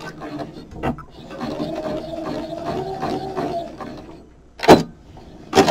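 A sewing machine stitches fabric for a journal's raggedy spine in a steady mechanical whir lasting a few seconds, with brief bumps and a couple of sharp knocks near the end.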